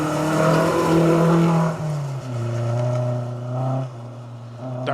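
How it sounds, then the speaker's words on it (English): A 2-litre Sunbeam rally car drives through a rally stage, its engine loud and near with steady harmonic drone, revs dropping and climbing through gear changes, no voices. "Darren Edwards, Dylan Andrew in their 2-litre Sunbeam, making their way through the stage."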